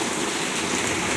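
Heavy rain driven by wind in Dallas, Texas, pours as a dense, loud, continuous hiss with no voices.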